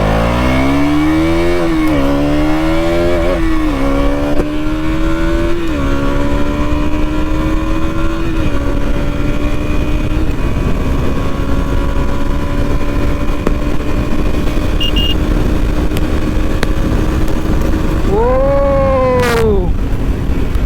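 KTM Duke 200 motorcycle pulling away hard, its engine revving up through several gear changes in a loud, rising then settling drone, ending with one more sharp rev burst near the end.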